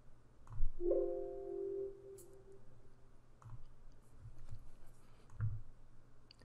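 A computer mouse clicks a few times at a desk, sparse, crisp single taps spaced a couple of seconds apart over a quiet room with a brief electronic tone near the start.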